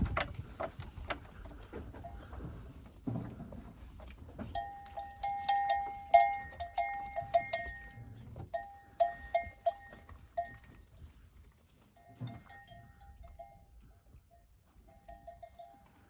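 Goats bleat amid ringing bells and clanking, with scattered rhythmic jingling near and far in a quiet farmyard.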